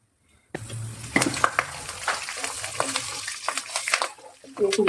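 Mustard seeds, cumin and black gram dal frying in hot oil in a pan, a steady crackling sizzle with sharp pops starting abruptly and continuing close up.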